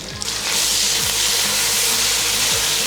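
Garlic and ginger paste sizzling loudly in a pot for chicken pilau, a dense close frying hiss with a few stirring scrapes, starting abruptly and holding steady.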